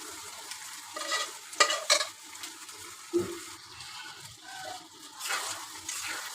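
Beef tripe is stirred in a frying pan for a spicy bhuna. Close, uneven scraping strokes and wet clatter come over a low sizzle, with several louder stirring bursts.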